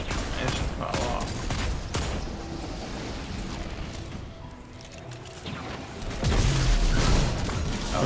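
Sustained automatic gunfire in Destiny 2 from a high-capacity magazine gun, a dense continuous rattle of shots with booms and game effects running the whole time, swelling louder near the end.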